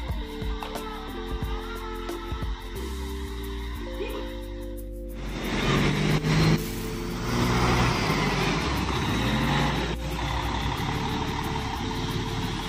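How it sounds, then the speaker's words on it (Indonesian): A long-distance bus pulls away and turns inside Daya bus terminal in Makassar, its engine rising from a steady idle to a louder, rumbling acceleration with hiss and clatter, close by amid general terminal noise. "jadi busnya sudah jalan, nanti busnya mutar di sini ya"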